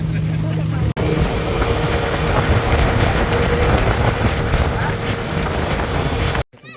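A motorboat engine drones steadily at close range, mixed with wind rumble, then cuts out abruptly near the end.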